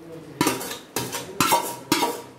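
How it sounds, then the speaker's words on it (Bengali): Marinated meat going into a kadai, with four loud metallic clanks of utensil against pan spaced about half a second apart, each trailing off into a short clattering rattle; nobody speaks. "এখন এটা কড়াইতে দেব"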